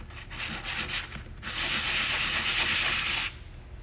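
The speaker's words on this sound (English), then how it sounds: "What I like to do is I like to roughen up the bottom of it." Sandpaper rubbing the underside of a new plastic seat snap, a close, steady scratchy scrubbing in quick strokes that grows louder and continuous midway before stopping, with no voices.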